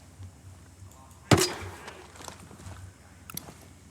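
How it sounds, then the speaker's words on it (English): A sensor launcher fires in Ghost Recon Breakpoint: one sharp, loud launch burst, then quieter clicks and a faint second pop near the end, over a low hum. "Let's use our sensor launcher first."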